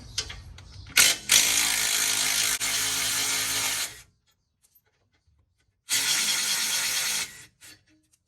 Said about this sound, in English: so I just use a ratchet